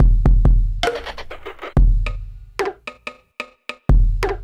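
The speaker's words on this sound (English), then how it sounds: "Altogether, the drums sound like this." Drum pattern made from sampled Mellotron stem hits, including a lower, pitch-oscillated drum sound, played as a short loop of sharp, punchy hits with deep thumps and brighter snare-like bursts, loud and dry with no voices.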